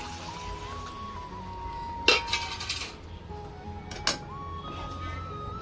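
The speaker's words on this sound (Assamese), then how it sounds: "এতিয়া মই অমৰা পাতখিনি ইয়াত ঢালি দিছোঁ।" Amaranth leaves tipped into a hot frying pan over fried sour ingredients: a sudden rustling hiss and clatter, then a second brief clink a couple of seconds later, over a steady low background hum.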